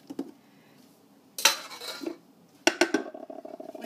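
Cooked redclaw freshwater crayfish in garlic and cooking juice tipped onto a serving plate: scattered clinks and scrapes of shells and utensil against the plate, then a louder clattering burst, close and alone.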